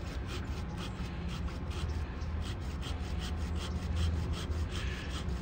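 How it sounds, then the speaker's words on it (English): A hand pruning saw cuts through a plum tree branch at the collar outdoors. It makes a steady, close rasping sound with even back-and-forth strokes and no talk. "So I'm gonna saw it off right here at the collar."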